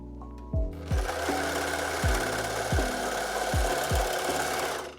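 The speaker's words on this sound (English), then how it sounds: "For sewing, I'm using an overlock machine" An overlock machine sewing the shoulder seams of a wool sweater runs in a steady close mechanical whir, punctuated by about eight regular thumping knocks of the stitching mechanism, with no talking.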